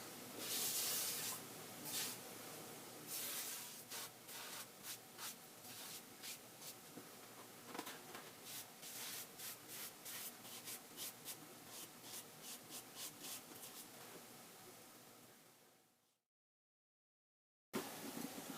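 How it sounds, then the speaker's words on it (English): A brush drags rhythmically across a wooden guitulcimer while a base coat of shellac goes on, making soft, close swishing strokes in a steady repeated pattern that ends in a short silence. "I'm just adding a base coat of shellac to protect the instrument from getting dirty"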